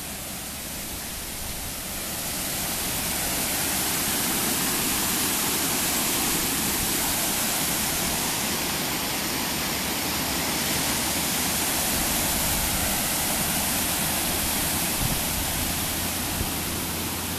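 A waterfall cascade swollen after heavy rain roars steadily, a dense, loud and continuous rush of water with no talk heard over it.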